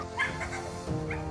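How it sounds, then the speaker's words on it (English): A dog gives a couple of short, high yips and whimpering barks in a yard, moderately close over a faint background hum. "the dogs and cats that Vlada looks after are confined to yards like this one"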